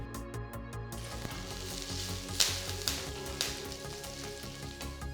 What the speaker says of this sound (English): Once the mustard seeds start splattering, add about 3 red chillies